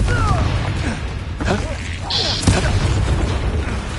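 The Confringo explosion spell cast in Hogwarts Legacy: a sharp, bright blast bursts out amid scattered game clatter and whooshes, with in-game voices speaking around it.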